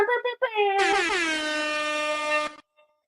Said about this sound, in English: let's do an air horn